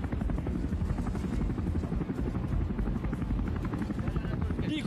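Three AgustaWestland A109 helicopters of the Malaysian military flying past, a loud, steady rotor chop with fast rhythmic blade thumping that holds for several seconds.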